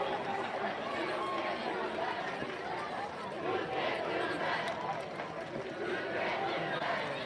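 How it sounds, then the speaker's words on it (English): Spectators at a Bensalem Owls versus Upper Dublin Cardinals high school football game, with the Bensalem side cheering: a steady, dense roar of crowd noise and chatter that holds at an even level throughout. "And you hear the Bensalem cheer."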